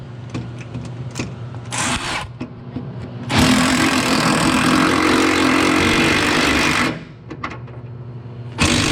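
Drill boring a 1/4 inch pilot hole into a steel frame rail on a Chevy, a steady loud whine lasting several seconds, with quieter shop clatter before and after.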